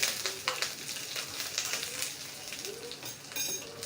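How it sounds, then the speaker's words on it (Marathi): Ginger and three or four curry leaves, added with green chillies, sauté in a hot pan, giving a steady close frying sizzle with brief stirring scrapes and clatter throughout. "यानंतर थोडंसं आलं घातलं आहे. 3 ते 4 कढीपत्त्याची पानं घातली. हे सगळं परतून घेऊया एकदा."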